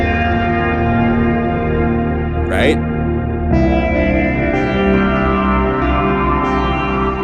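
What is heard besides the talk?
very long mushy reverb on sampled notes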